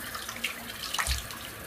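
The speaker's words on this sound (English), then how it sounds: "So I'm going to rinse off." Water runs from a bathroom tap into a sink while a man rinses his face after shaving with a safety razor, a faint, steady splashing with a couple of soft splashes, no talking.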